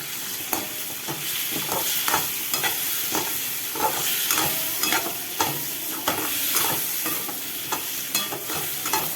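Chicken pieces fry in hot oil in a pan, a steady sizzle broken by repeated scraping and clattering stirs at a regular, quick pace, close and fairly loud with no talk.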